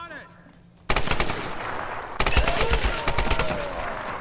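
Rapid machine gun bursts from the Tomb Raider (2013) PC game, loud sustained automatic fire starting abruptly after a quiet moment, then intensifying with overlapping shots.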